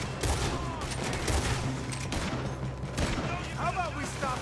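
Gunfire in the video game Red Dead Redemption 2 comes as a dense, loud fusillade of overlapping shots throughout, with game voices talking over the shooting.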